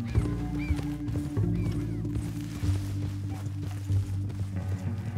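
Horse hooves clip-clop in the Red Dead video game, a steady walking rhythm of hoof strikes blended under dense game music and ambience, with no one talking.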